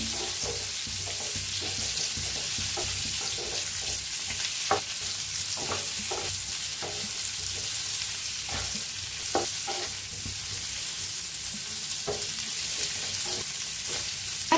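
Pieces of bitter gourd sizzle in hot oil in a pan, with a steady frying hiss and repeated light scraping clicks as they are stirred.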